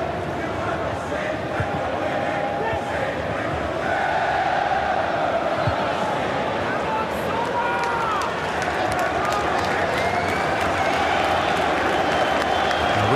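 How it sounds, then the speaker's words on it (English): Football stadium crowd at a Melbourne Victory versus Adelaide match keeps up a steady, dense roar with a broad ripple of applause running through it, continuous and fairly loud throughout. "A ripple of applause around Amy Park"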